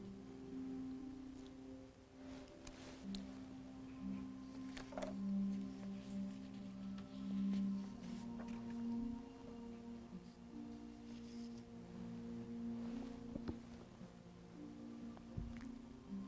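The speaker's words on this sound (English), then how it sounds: "let you just focus on the music with its alpha tones, the subliminals" Soft hypnosis music with alpha tones plays as low, sustained drones and gently shifting tonal layers, with faint chirping tones drifting in and out over a quiet, steady bed, and no voices.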